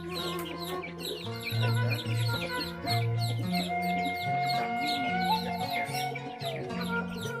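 Bangkok chickens cluck and call nearby in a busy, overlapping chorus, with a few higher chirps mixed in.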